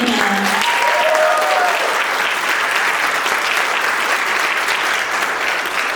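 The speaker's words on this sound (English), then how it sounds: "Can we get a round of applause for Anna?" A school-event crowd bursts into sustained, even applause, a dense, full wash of clapping held at a steady level throughout.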